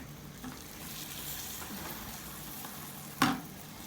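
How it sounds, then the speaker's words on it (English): Soft, steady sizzling of chapati frying in oil, with a brief louder scrape or clatter near the end. "as you're frying your chapatis"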